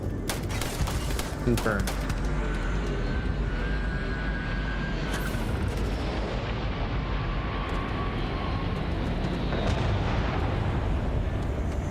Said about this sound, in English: If you shoot them in the pack, they can blow.